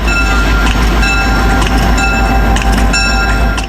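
A loud, steady rumble of a heavy railroad snow plow train, with metallic clanks and high tonal whines riding over a constant low drone, no voices.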